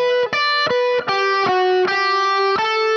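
Electric guitar plays a fluid legato motif with a slide, a run of connected lead notes picked out in quick succession, sustained and loud with no voices.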